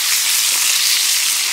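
Spiced meatballs sizzle loudly and steadily as they fry in a pan, a dense continuous hiss filling the moment up close with no talk.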